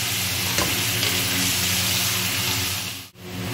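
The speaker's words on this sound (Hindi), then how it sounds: "चिकन ऐड कर दिया है, अब इसको अच्छी तरह हम मिक्स करेंगे।" Chicken being stirred as it fries in a pan for achari chicken, a close, constant sizzle with scraping from the stirring and one brief dip near the end.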